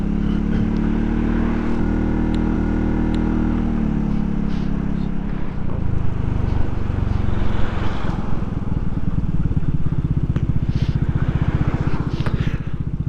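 A Royal Alloy GP300 scooter fitted with a Tasso performance road exhaust idles close by, a steady low engine drone that shifts in pitch partway through and continues unbroken to the end.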